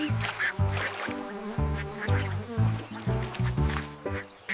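A run of duck quacks in a children's nursery rhyme song, evenly spaced, loud and close, repeating in a steady rhythm that may come from a voice imitating ducks over the music.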